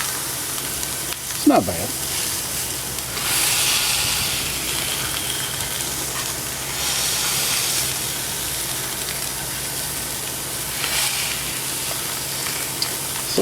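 Food sizzles and fries steadily on a hot Blackstone portable griddle outdoors, with a continuous hiss that swells in bursts and a few clanks of a utensil, while a person speaks briefly over it.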